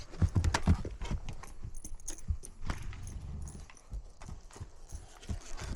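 Hooves of a saddled horse in training clip-clop in an uneven walking rhythm, close and moderately loud, with scattered tack jangles and thumps between steps.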